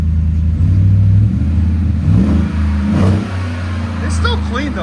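A 2018 Chevy Tahoe with a 6.2L V8 and an 18-inch Magnaflow muffler revs hard, a deep loud roar rising and falling, then settles to a lower rumble.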